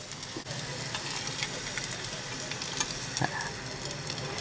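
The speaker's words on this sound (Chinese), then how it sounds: "炸到金黃色。" Udon noodles deep-fry in hot oil until golden, a dense, steady bubbling sizzle with scattered pops and crackles throughout and no talking.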